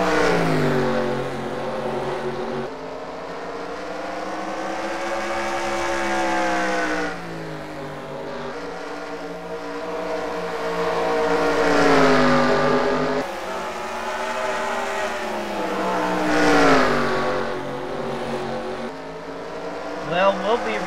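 Race cars in a Bristol heat race roar past with a continuous layered engine drone, pitch rising and falling as they circle, loud and sustained with a commentator speaking over it.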